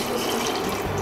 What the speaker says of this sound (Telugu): వాటర్ పోసి